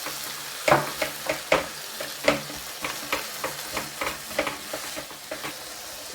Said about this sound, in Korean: 고사리를 볶아줘야 돼요.